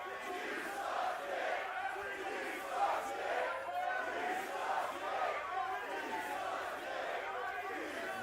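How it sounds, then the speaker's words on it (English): A wrestling show crowd roars and shouts continuously, a dense steady wall of cheering and yelling with voices rising and falling throughout. "What a crowd here tonight."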